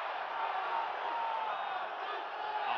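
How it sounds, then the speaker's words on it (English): Steady crowd cheering and roaring from a simulated arena audience in the EA UFC 2 fighting game during a Rousey versus Holm bout, a continuous wash of distant voices with no breaks. "This is a Ronda Rousey crowd."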